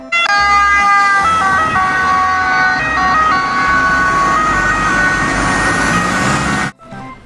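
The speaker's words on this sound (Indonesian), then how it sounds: "Di sini ada mobil ambulans." A toy ambulance siren wails loudly and steadily in a continuous electronic warble that cycles between pitches for about six and a half seconds, then cuts off abruptly.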